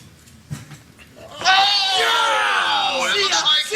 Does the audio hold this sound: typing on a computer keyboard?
no